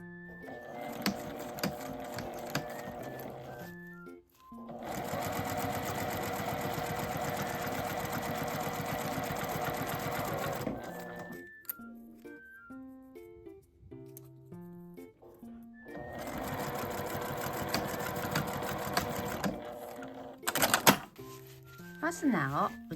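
A sewing machine stitches a laminated wire mini pouch in two sustained bursts of rapid whirring and needle patter, separated by a quiet pause, with soft melodic tones in the background.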